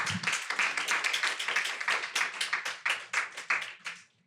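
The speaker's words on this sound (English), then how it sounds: "another round of applause, please." An audience gives a panel discussion a round of applause: a close, rhythmic run of claps that stays steady, then thins into a few separate claps before stopping.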